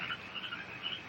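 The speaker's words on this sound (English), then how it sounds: "That's a bird with long red feathers. It flies without making a noise." A high-pitched jungle bird call, said to come from a vicuna bird with long red feathers, in a film: a continuous shrill, wavering trill at moderate level with no talk over it.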